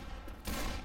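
Gunfire in the Left 4 Dead 2 video game: a dense burst of shots, steady at first, then growing louder and fuller about halfway through.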